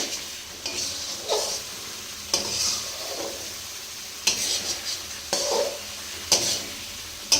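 Spiced duck meat frying in a pan, stirred in repeated scraping strokes over a steady sizzle, with sharp utensil knocks against the pan recurring every second or two, close and moderately loud.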